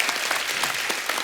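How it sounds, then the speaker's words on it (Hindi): A brief burst of dense audience applause in a television comedy show studio, a continuous wash of many hands clapping at an even level for just over a second. "तालियां होनी चाहिए"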